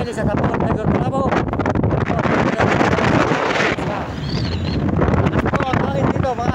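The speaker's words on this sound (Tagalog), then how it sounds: "Ito ang hangin dito mga idol." Strong wind roars steadily into the microphone outdoors, a loud, gusty rush that swells and eases, with someone talking over it for much of the time.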